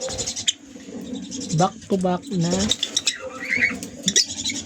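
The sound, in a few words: pet birds, Lutino Opaline mutation, calling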